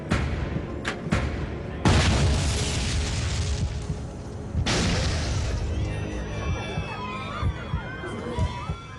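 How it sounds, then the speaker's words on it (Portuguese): Two sudden loud booms burst out a few seconds apart aboard an airplane, followed by a rumbling roar and scattered shouting voices. "Duas explosões sacodem o avião."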